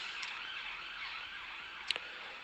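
A distant ambulance siren wails steadily outside, faint and continuous, with a brief sharp click heard close by near the end.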